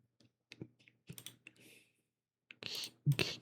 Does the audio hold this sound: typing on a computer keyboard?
yes